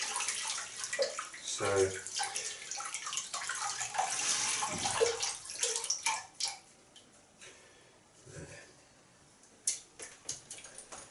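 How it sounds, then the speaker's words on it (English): An Omega 49 boar-bristle shaving brush is rinsed under a running tap, giving a steady splashing water flow that thins out midway. A voice speaks briefly over it. "I'm just going to rinse the brush out."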